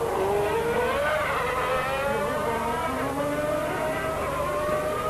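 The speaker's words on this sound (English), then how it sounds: "the Lamborghini engine in the back of that Minardi is working well" A Lamborghini V12 in a Minardi Formula 1 car screams during qualifying at the 1992 Japanese Grand Prix, its loud high-pitched engine note climbing repeatedly through the gears.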